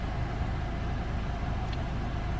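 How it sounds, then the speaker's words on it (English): A 1999 Ford Contour engine running steadily after new spark plugs and wires were fitted, a low continuous hum with no voices. "I am now finished with my spark plugs and wires, and it sounds great."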